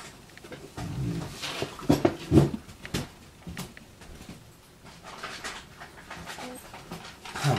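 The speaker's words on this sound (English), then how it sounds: "My dog was getting into her treat bag." A dog pants and rustles close by while getting into a bag of treats, with soft scuffling and a few thumps and brief whimpers, without any talk.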